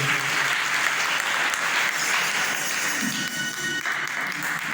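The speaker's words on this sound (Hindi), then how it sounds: "जोरदार तालियां।" Audience applause at a winter spiritual study camp: a steady, dense wash of many hands clapping together, loud and continuous throughout, with a brief dip near the end.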